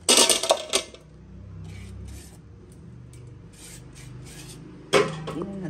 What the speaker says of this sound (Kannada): ಸೊ ಏರ್ ಫ್ರೈಯರಲ್ಲೇ ಹಾಕೋತಾ ಇದ್ದೀನಿ.